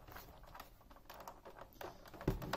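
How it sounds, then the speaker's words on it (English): Rapid, clattery typing on a Unicomp Ultra Classic buckling spring keyboard, loud and close, with a heavier keystroke near the end. "this keyboard is pretty loud"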